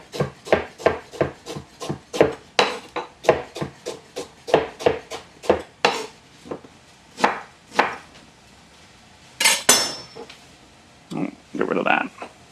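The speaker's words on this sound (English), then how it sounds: "And then I'm going to chop these up" Knife chopping quince on a cutting board for a gluten-free pie, a quick run of sharp, close thuds in steady rhythm, slowing into a few scattered chops and a short scrape at the end.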